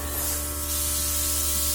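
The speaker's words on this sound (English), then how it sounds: "So I'm very lightly spraying it along my neck" A Luminess Air airbrush sprays foundation makeup lightly along the neck, giving a steady, soft airy hiss with a faint constant motor hum underneath.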